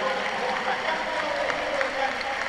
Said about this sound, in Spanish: Y recibe la ovación Humberto el Chupete Suazo